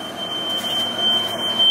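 Smoke alarm set off by burnt popcorn, a steady piercing high tone sounding continuously and loudly over a broad hiss of background noise.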